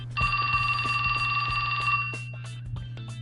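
A mobile phone rings in 428 Shibuya Scramble with a steady electronic trill lasting about two seconds, then stops, leaving scattered soft clicks and taps behind it.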